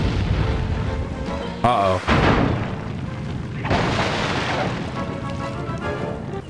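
Naval cannons fire in a pirate video game with sea monster battles, a loud broadband blast followed by rolling booms over continuous ocean and battle noise, with a player briefly speaking.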